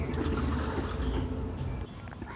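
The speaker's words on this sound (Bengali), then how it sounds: "এবার এই জলটা এই বালতিতে ঢেলে দাও।" Water poured from a mug into a bucket while mixing liquid organic garden fertilizer, a close, steady splashing and gurgling that stays fairly loud and eases off slightly near the end.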